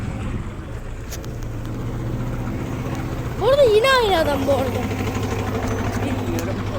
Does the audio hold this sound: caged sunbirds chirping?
no